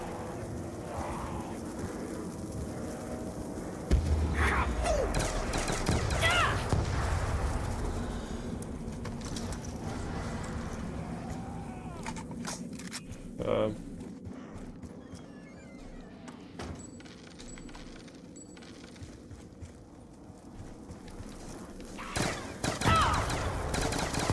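Gunfire in Call of Duty Black Ops II Zombies on the Green Run Tranzit map, scattered bursts of shots and rapid fire of varying loudness against busy game noise over a long stretch.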